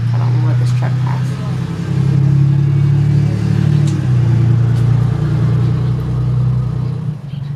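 A truck passes close by a house porch, its deep engine rumble loud and steady throughout, swelling slightly midway before easing off at the end, with speech mixed in.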